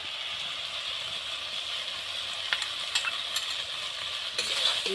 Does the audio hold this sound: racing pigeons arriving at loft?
no